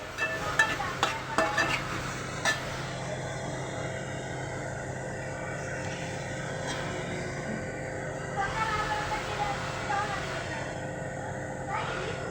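Cabbage and potato bhaji being stirred in a pan, with scraping strokes clustered at the start and a low continuous background hum and sizzle through the rest, fairly quiet and close.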